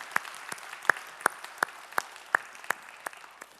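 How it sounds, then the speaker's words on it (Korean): A church congregation at a Sunday worship service claps after a choir's hymn, a steady, evenly spaced beat of about ten crisp single claps over a soft room hush, with no talk. "우리의 찬양을 받으실 주님께 영광의 박수 올리겠습니다."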